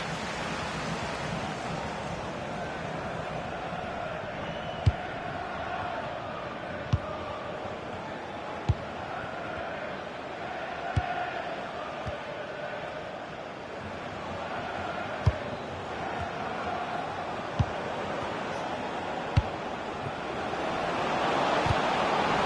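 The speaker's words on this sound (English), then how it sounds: "Well, just listen to this crowd." A football stadium crowd at a Cork City versus Galway United match gives a broad, steady roar heard from a distance, with a few sharp thuds and the noise swelling near the end.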